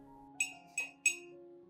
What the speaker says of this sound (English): Next, I add 3 spoons of rice into the glass cup, containing the ginger prepared earlier,